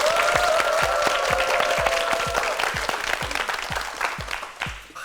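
Studio audience on a Korean TV quiz show breaks into steady, dense applause that holds for several seconds before tapering off.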